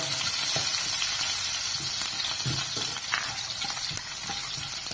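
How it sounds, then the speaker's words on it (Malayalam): Chopped green chilies, ginger and garlic sauté in a pan for a tomato fry, producing a steady, close sizzle with scattered soft stirring scrapes and no talking. "അതിലേക്ക് മൂന്ന് പച്ചമുളക് ചെറുതായിട്ട് അരിഞ്ഞത് ഒരു കഷ്ണം ഇഞ്ചി ചെറുതായിട്ട് അരിഞ്ഞത് അഞ്ച് വെളുത്തുള്ളി ചെറുതായിട്ട് അരിഞ്ഞത് ഇതിട്ടൊന്ന് പയ്യെ വഴറ്റുക"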